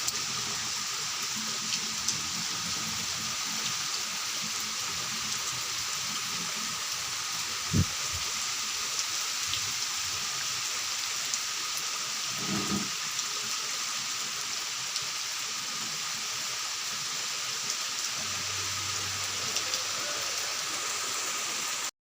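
Steady, dense hiss of rain falling, continuous throughout, with a couple of brief dull knocks partway through.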